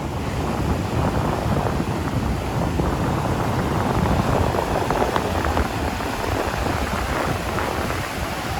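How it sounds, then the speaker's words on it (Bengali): Sea waves roll in at Mandarmani beach under strong, cold wind, a loud continuous rushing surf with heavy wind buffeting the microphone and no voices. "সমুদ্রের ঢেউটা যখন আসছে প্রচণ্ড ঠান্ডা হাওয়া"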